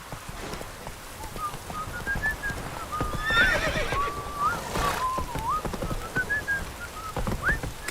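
Roach the horse from The Witcher 3 gallops with rapid rhythmic hoofbeats, and a whistling, rising and falling tone runs through the middle, all up close with no voices.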